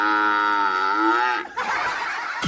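A man imitates a buffalo with one long, loud, drawn-out vocal moo that holds steady before breaking into rougher noise near the end, with no other voices.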